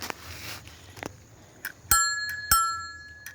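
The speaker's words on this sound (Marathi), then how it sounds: "ह्याची नवीन बेल बघा" A bicycle bell rings twice with bright, lingering dings, preceded by a few soft clicks and taps; no voices.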